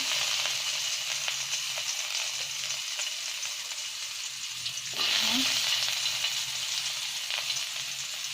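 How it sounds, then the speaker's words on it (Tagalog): Garlic frying in a little oil in a pan for ginisang kangkong, a steady close sizzle throughout that grows louder and brighter partway through, no talking. "sa may kawali, mayroon ng mantika. Kunti lang yan guys. At itong bawang, nilagay ko na."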